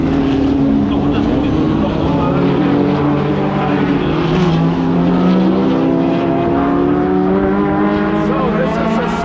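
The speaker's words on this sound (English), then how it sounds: "This is actually a real 917 Porsche" A real Porsche 917 race car at a historic race at Hockenheim, its engine droning loud and close with shifting tones as it runs past, continuous throughout.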